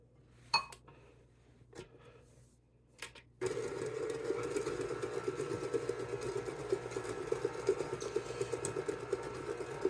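After a few clinks and taps in a quiet kitchen, an electric mixer starts up with a sudden loud, steady whir, working gluten-free chocolate chip cookie dough close by without pause.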